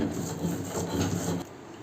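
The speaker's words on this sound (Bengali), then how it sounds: "সুন্দর করে একদম মিহি করে বাটবেন, ফুল আর মাছ" Pumpkin flowers and small dried fish are ground into a fine paste by hand, a close, rhythmic rough scraping and rubbing that stops abruptly near the end.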